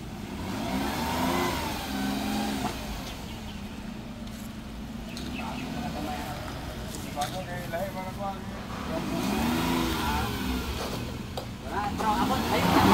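A Suzuki DA65T engine runs and revs, its mid-pitched drone rising and falling in several swells, with people talking over it throughout.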